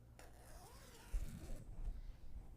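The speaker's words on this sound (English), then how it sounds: "So I'll unzip it." A clothing zipper being unzipped while pinning it along a fold for sewing: a faint, short scraping zip run in the middle of an otherwise quiet moment.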